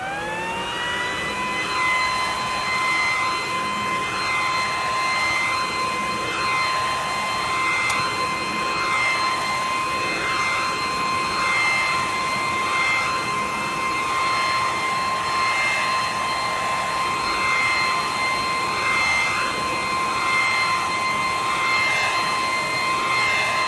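A leaf vacuum mulcher runs at full speed, a loud steady whining roar with a constant high-pitched tone that holds unchanged throughout, close and alone.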